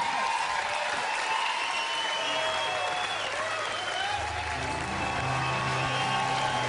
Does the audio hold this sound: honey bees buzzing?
no